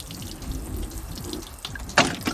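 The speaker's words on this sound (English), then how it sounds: "grab your watering can, and just give it a good hose off" Water poured from a watering can splashes over a car's brake parts to rinse off spilled brake fluid, a steady close-up wash of trickling and splattering liquid with a sharper splash near the end.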